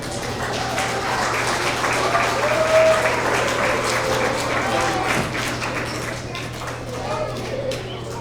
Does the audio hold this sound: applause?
yes